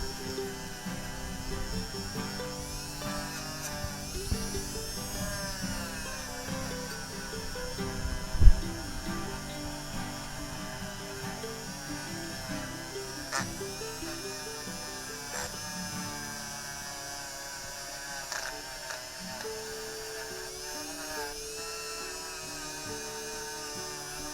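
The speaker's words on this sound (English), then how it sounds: "we can get on now with the spinning wheel brush with the fake Dremel" A cheap Dremel-style rotary tool spins a wire wheel brush over a small metal Corgi Citroen DS 19 model casting during powder coating prep, giving a continuous high whine that shifts pitch as it bears down, with one sharp knock partway through.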